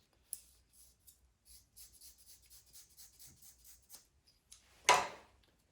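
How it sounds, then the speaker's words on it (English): Close, quiet scissors snip through material in a steady series of small cuts, ending with one louder rustling crunch. "Stuff actually cuts pretty easily with scissors."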